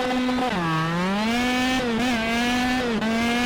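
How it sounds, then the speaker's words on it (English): A loud, close KZ2 racing kart engine revs hard from a standing start and holds a high, strained drone, its pitch dipping and climbing as it accelerates in first gear. "get the revs up, we're in first gear"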